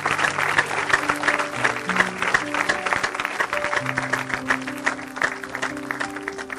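A church congregation breaks into loud, sustained clapping and cheering for Jesus Christ during a worship service, dense hand claps with voices and a sustained instrument tone underneath, going on steadily for several seconds.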